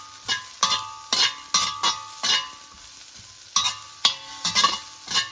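Vegetables with turmeric stirred in a pan for veg puff filling, a spoon scraping in repeated close, loud strokes about every half second over a soft background sizzle.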